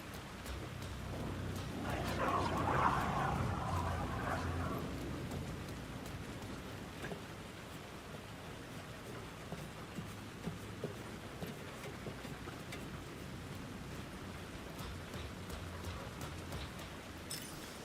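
Rain falls on the city in Alan Wake 2 as a steady, dense hiss of drops on surfaces, swelling with a louder rumbling burst early on before settling into a constant patter with occasional sharper taps.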